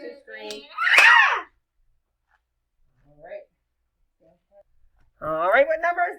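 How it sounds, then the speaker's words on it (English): A child's high, bright scream bursts out right after a sung line of a circle-time song, set between bits of child speech and near silence, then more voices follow. "don't forget to scream."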